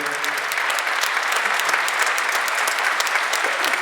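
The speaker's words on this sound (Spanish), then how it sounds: "dou un aplauso para eles" Warm applause from an audience at a traditional Galician music group's concert, a thick, even burst of many hands clapping that carries on at a steady level from start to finish.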